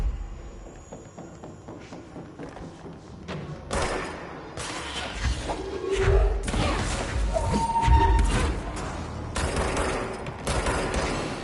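Rapid video game gunfire in a live bedroom stream, bursts of shots and thuds that grow dense and loud after the first few seconds, with one player shooting at another in the game.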